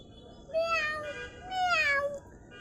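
A child imitates a cat's meow twice, each a drawn-out, rising and falling mew that is close and fairly clear over a steady low background hiss.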